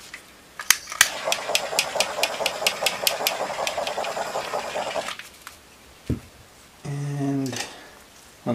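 A handheld torch flame passes over a star-pattern acrylic paint pour, giving a steady close roar with rapid ticking pulses for about four seconds, then cutting off before brief voices follow.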